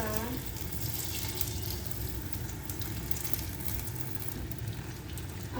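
Banana pieces sizzle steadily in hot oil, a dense, even frying hiss that holds throughout as the slices are turned, close and fairly loud with no pauses.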